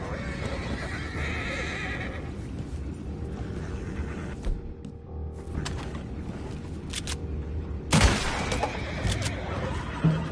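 Horses neigh and whinny repeatedly in Red Dead Redemption 2, with clip-clop hooves and a busy background of mechanical clatter and scattered gunfire; a loud whinny bursts in near the end.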